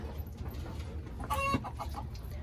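A single short burst of clucking from a nearby hen at Kuakata beach in Bangladesh rises briefly over steady low background noise.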